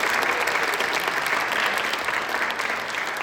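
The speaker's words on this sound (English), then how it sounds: "So let's give them a round of applause." A benefit concert audience applauds its sponsors with steady, dense clapping that holds at an even level for the whole stretch, with no talk over it.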